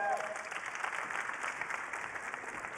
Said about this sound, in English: applause for Kamal.